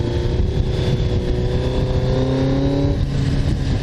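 Kawasaki GPZ900R motorcycle engine on a test ride, a loud, steady, close-up roar holding a sustained pitch under heavy wind noise throughout.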